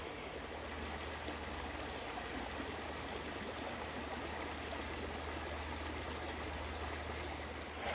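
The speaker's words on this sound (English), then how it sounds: "just sit down here by the creek, just listen to the sound of the water trickling through" Creek water trickling and burbling over stones outdoors, a steady, even rush that continues unbroken throughout with no voices.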